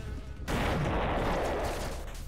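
A single sharp in-game gunshot blast in the pixel-art adventure game Owlboy bursts in abruptly and rings out as a long, dense roar before tailing off.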